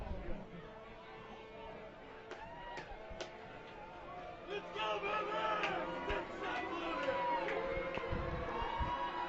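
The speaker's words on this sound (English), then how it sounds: "you can hear the crowd here at John Wren Stadium" Crowd noise fills John Wren Stadium at a high school football game between Basha and Perry, a distant murmur of chatter and scattered cheers that swells toward the end, with a voice talking over it.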